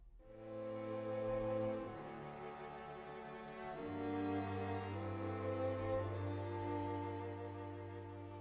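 Solo strings from the Cinematic Studio Solo Strings sample library play sustained, intimate bowed notes that shift pitch in slow phrases, close and soft, without any talking.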